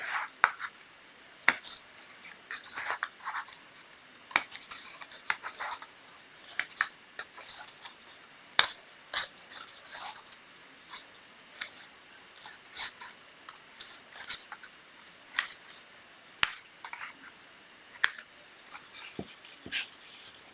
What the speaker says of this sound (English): take your scissors and go back across, clipping each one